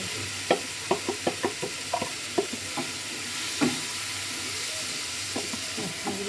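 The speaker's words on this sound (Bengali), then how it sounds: "মাশরুম দিয়ে আমি ওটা বেশ কিছুক্ষণ কষাতে থাকবো" Mushrooms marinated with butter, turmeric, Kashmiri chili powder and garam masala fry softly in a pan, a low steady sizzle broken by a scattering of sharp spoon clicks and scrapes as they are stirred, with no talk.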